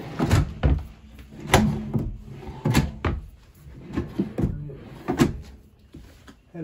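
Drawers in a 2021 Sandpiper 401FLX RV camper slide and knock open and shut in a series of close wooden clunks and thumps, with no talking.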